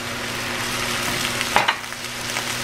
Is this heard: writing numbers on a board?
no